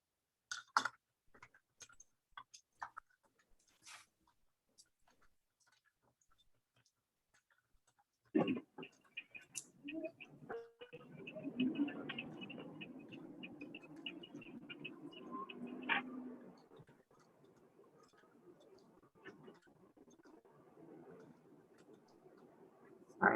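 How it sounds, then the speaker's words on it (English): A loud computer keyboard is typed on during an online educators' webinar: scattered sharp clicks come first, then a denser burst of rapid keystrokes and clatter for several seconds before it thins out again. "Sorry, my keyboard's really loud."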